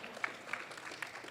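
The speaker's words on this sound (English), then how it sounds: "A round of applause for these two gentlemen." Audience applause for two bantamweight fighters at a fight-week press conference, a soft and fairly distant patter of clapping with a few sharper claps standing out.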